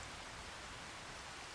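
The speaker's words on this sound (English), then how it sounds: "rain has paused play currently" Rain falls steadily on a farm, a faint, even hiss of drops with no other sounds or voices.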